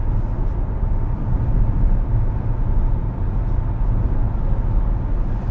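Inside a 2025 Hyundai Ioniq 5 cruising at 70 mph, a steady low road and tire rumble fills the cabin, with the ventilation fan running on its lowest setting and no one talking.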